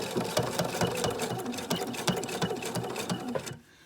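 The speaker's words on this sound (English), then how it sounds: "I'll put the needle right where I want to start sewing, right on these stitches of the placemat that's already there." A sewing machine runs steadily, stitching through a fabric placemat, its rapid needle clatter continuous and close for over three seconds before stopping abruptly.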